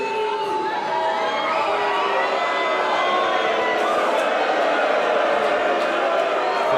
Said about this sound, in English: Crowd letting them hear it.